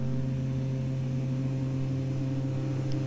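In a Carenado Cessna 208B Grand Caravan flight simulator, the turboprop engine holds a steady, loud droning hum with a strong low tone and layered harmonics, unbroken and without speech.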